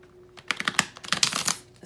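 Tarot cards are shuffled by hand, a quick close run of crisp riffling flicks and taps in two bursts over less than two seconds, no voices.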